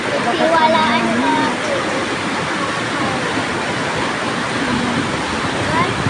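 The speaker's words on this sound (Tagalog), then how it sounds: "Grabe kalakas ng tubig" Strong floodwater rushing through a river after a typhoon, a loud, steady roar of churning water heard close up, continuous throughout with wind buffeting the microphone.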